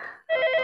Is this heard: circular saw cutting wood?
no